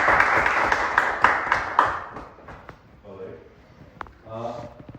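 Audience clapping at a Toastmasters Sunday session, a burst of scattered hand claps in the first two seconds, heard over ongoing talk before it fades into speech.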